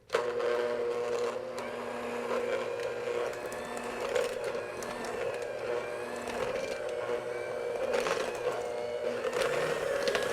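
Electric stand mixer whirring on low speed through cookie dough, a steady motor hum with faint rattling that runs evenly and fairly close throughout.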